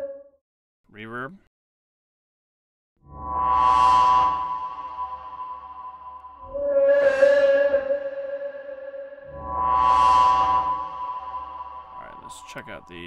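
Synth percussion hits with a reverb effect, three swelling tonal blooms that rise and decay slowly with a long washy tail, preceded by a short sweep, clear and alone with no talk.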